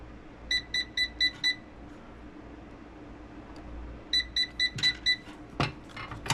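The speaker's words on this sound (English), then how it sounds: "then it'll beep to confirm that it saved it" A biometric security safe gives two bursts of five rapid electronic confirmation beeps, evenly spaced with a pause between them, followed by a few faint clicks and taps close by.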